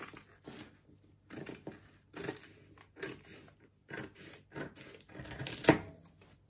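Scissors snipping through fabric while cutting the front and neckline of a bubu dress together, a series of short crisp cuts in uneven bursts, close and fairly quiet with a louder crunch near the end.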